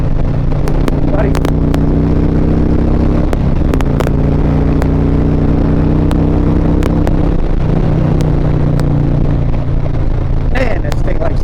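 A motorcycle engine on a cold winter ride, a loud continuous low drone with steady harmonic tones that shift pitch slightly as it runs, plus occasional wind buffeting.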